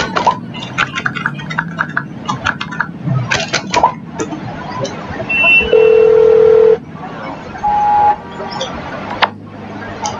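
A phone call to Lester in GTA V, with keypad tones and steady ringing beeps over faint background noise and clinks.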